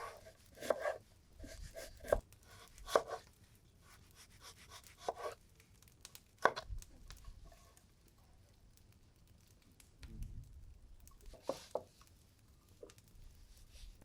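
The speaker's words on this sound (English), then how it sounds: "we peel and cut some potatoes. We cut them in very thin strips." Knife cutting peeled potatoes into very thin strips on a board, quiet scattered taps and scraping strokes with irregular pauses, close up and alone.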